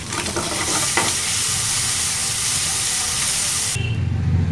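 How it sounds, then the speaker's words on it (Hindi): Eggs sizzle loudly in a hot pan over a medium-high gas flame with a steady crackling hiss, stirred now and then; the sizzle softens near the end. "गैस की फ्लेम को मीडियम टू हाई पर रखकर ये अंडों को अच्छे से फ्राई कर लेंगे।"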